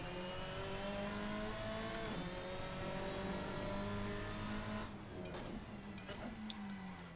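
A simulated car engine in the Assetto Corsa driving game holds a steady, droning rev with a rising and falling pitch, moderately loud and continuous, easing slightly near the end.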